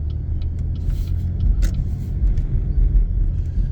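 A car pulling away gently from a stop during a driving lesson, a steady low engine rumble close by that holds even throughout with no voices.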